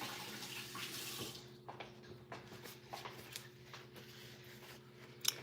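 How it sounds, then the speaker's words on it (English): Hands rinsed under a running kitchen tap, a steady broadband water hiss that fades after the first second into quieter intermittent splashes and trickles, with a low steady hum beneath and a brief sharp clink near the end. "Rinse my hands."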